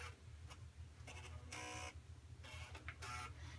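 Small stepper motor driven by an Arduino shield, giving a close, steady low buzz with bursts of high whirring as it moves in short runs.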